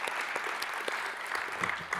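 Brief, moderately quiet applause rises from a plenary meeting audience thanking an absent person, steady clapping with a few sharper individual claps.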